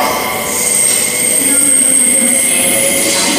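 A train idles at a station platform with a loud, steady rumble and a high whine, while a platform announcement plays over it.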